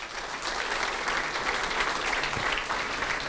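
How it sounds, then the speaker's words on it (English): An audience at an evening safety briefing for a charity trail walk gives a steady round of applause, many hands clapping in an even, moderately distant wash for a few seconds. "So a round of applause for them, please."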